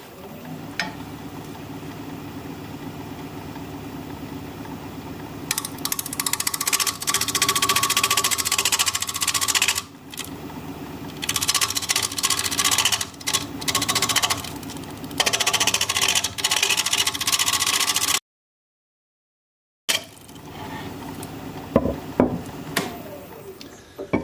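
Wood lathe turning a natural edge yew bowl at about 900 RPM, with a steady motor hum and loud rough scraping and cutting bursts from the tool on the spinning wood, broken by short pauses and one silent gap.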